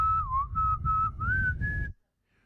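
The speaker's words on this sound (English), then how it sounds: "Now we're just whistling." A person whistles a wavering tune in one sustained, fairly loud phrase lasting about two seconds, over a low rumble of background noise, then stops abruptly.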